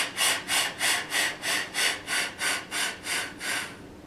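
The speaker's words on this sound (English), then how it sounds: "trying to get a nice, loose, free vibrato with a lot of amplitude." A flute sustains a breathy, airy tone with a loose, free vibrato, pulsing in an even wave about three times per second, close and soft, with no talk.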